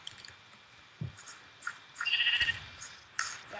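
A short, bright Minecraft sheep bleat rings out once, moderately close, amid scattered soft clicks and taps of game sound effects.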